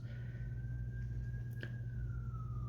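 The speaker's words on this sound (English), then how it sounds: "nice sirens, yeah." A siren wails in the distance, a steady high tone slowly rising and falling over a constant low rumble of traffic.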